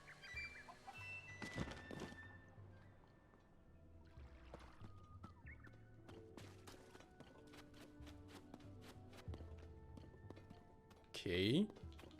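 A chicken clucks in Zelda: Tears of the Kingdom near the well in Kakariko Village, with a few short clucks among game music, footsteps and other ambient effects, ending in a brief squawk. Someone speaks over part of it.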